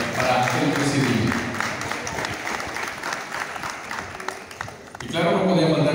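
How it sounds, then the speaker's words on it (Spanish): An audience at an evening beauty pageant in Ciudad del Maíz applauds the president, a sustained, dense wash of clapping from a crowd, with a presenter's voice over the applause at the start and end. "El aplauso que se escuche para el presidente."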